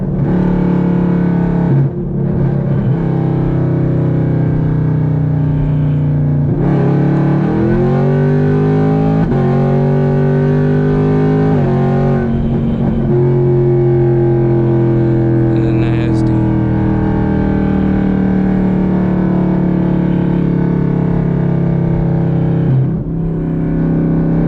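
A modified FBO Chevrolet Camaro SS V8 on a freeway, its engine droning loud and close with a rising then settling pitch as it pulls and decelerates, a continuous throaty roar with a driver's voice briefly heard.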